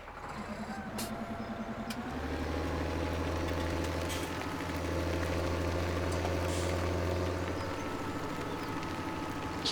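An upgraded farm vehicle in Farming Simulator 16, fitted with wire tires and a bigger engine, idles with a steady low drone and a faint rattle underneath.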